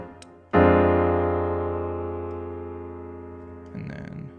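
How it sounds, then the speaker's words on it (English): A jazz piano sounds a dominant seventh flat-five chord in root position, one sustained four-note strike ringing out and slowly decaying, with a brief rustle near the end. "dominant 7 flat 5 chord."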